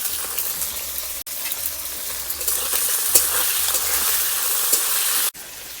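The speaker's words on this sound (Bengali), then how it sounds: "তেল গরম হয়ে গেছে, এক এক করে সব উপকরণগুলো ভেজে নেব। প্রথমে ফুলকপিটা দিয়ে দিলাম" Cauliflower florets crackle and hiss in hot oil, a bright, steady frying sizzle broken by two sudden sharp dropouts, with faint clatter in the background.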